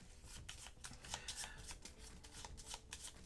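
A deck of cards for a Star Wars Outer Rim board game is shuffled by hand in repeated quick riffling bursts, close and moderately quiet, with no talking.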